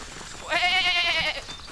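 A goat lets out a single loud, wavering bleat, close up, lasting under a second, with no talking around it.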